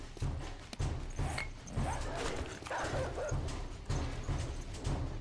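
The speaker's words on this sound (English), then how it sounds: "That is that's a massive pack of wandering dogs." A large pack of wandering dogs in the 7 Days to Die video game: repeated low, rhythmic barking and snarling, fairly loud and steady throughout, with growls and yelps over the top.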